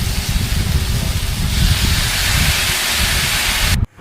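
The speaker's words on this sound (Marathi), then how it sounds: "त्यामध्ये red chilli sauce, soya sauce टाकून चांगल्या परतून घ्यायच्या आहे." Vegetables sautéing in a pan with red chili sauce and soy sauce, a steady loud hiss and sizzle that runs unbroken for nearly four seconds and then cuts off abruptly.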